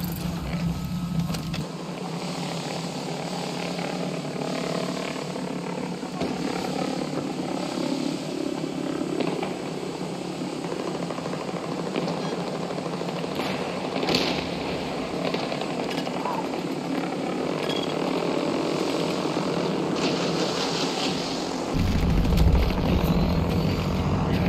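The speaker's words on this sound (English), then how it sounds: "Releasing drone." A drone launched in a military sector-control video game gives a steady, loud whirring buzz, like propeller or rotor noise, that runs continuously for the whole stretch and swells slightly near the end.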